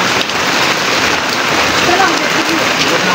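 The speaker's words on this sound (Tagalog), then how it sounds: "Hindi muna tayo kuha ng video gawa ng umuulan." Steady rain pouring down during a harvest, a dense, even hiss of drops hitting surfaces that stays loud and unbroken throughout.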